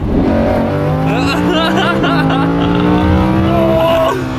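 A Lamborghini Huracan engine drones loud and close as the car pulls away, its pitch rising in stepped gear pulls, with voices talking inside over the noise.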